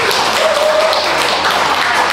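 An audience at a Chuseok concert in a live-music restaurant in Ganghwa's Spanish Village claps steadily, a dense and fairly loud wash of applause held evenly throughout.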